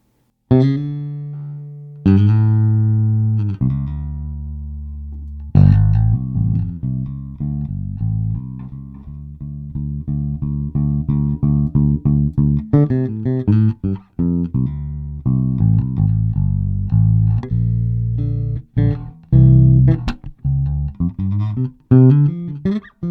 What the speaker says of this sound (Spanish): vamos ya a escuchar este bajo